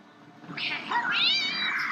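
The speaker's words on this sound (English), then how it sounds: "they just threw a cat in the time machine" A cat meows in a Disney movie scene, a drawn-out, rising and wavering cry lasting about a second and a half, close and clear.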